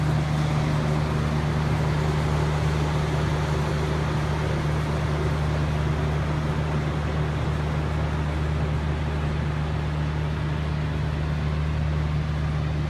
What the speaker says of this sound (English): It's going to be a little loud because we're up by the heater or the blower.